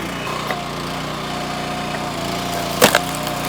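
Wet oak log split apart by a running engine-driven splitter, a steady motor drone with a sudden sharp crack and splintering burst near the end, close and with no talk.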